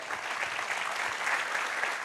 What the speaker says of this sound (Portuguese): Olha a salva de palmas lá